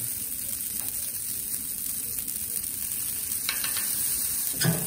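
Garlic sizzling in bacon grease on a flat surface over a Big Green Egg, a faint, steady hiss under a constant high background whine, with a couple of brief scraper clatters near the end.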